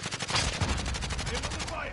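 Sniper and automatic gunfire in the Warzone video game, a rapid run of sharp, loud shots repeating steadily over two seconds, with faint voices underneath.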